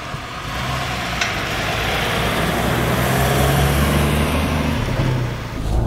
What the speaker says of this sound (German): der Wagen, der läuft ja wirklich seidenweich